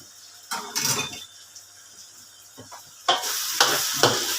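Pork cracklings stir-fried with chili paste and morning glory in a hot pan, giving a close sizzle with bursts of stirring and scraping, a quieter stretch midway, then louder, steadier frying and tossing toward the end.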